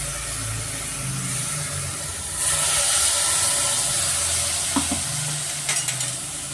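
Mutton leg soup masala in a pan, ground fresh masala cooking with a splash of water, bursts into a loud, steady hissing sizzle midway, with faint stirring scrapes and clinks near the end.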